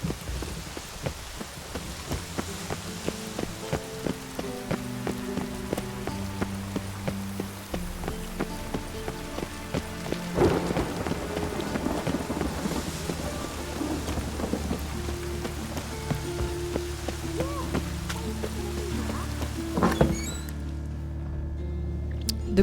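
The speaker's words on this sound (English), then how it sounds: "I like rain." Steady rain and rumbling thunder fill a scene in the video game The Witcher 3: Wild Hunt, a continuous patter with a louder thunder roll midway, layered over game music and ambience.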